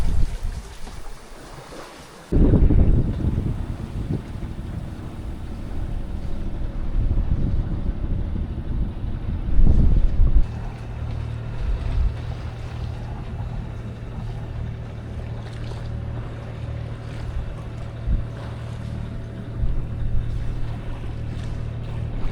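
A sailboat's engine drones steadily out at sea mid-Atlantic, a low continuous hum mixed with wind buffeting and waves washing against the hull, with no talk.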